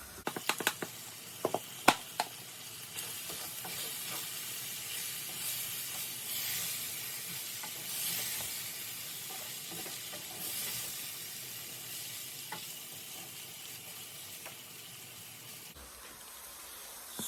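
Ground beef with generous taco seasoning sizzles and hisses steadily in a hot pan, with occasional scraping clicks from stirring near the start, continuous and fairly loud throughout.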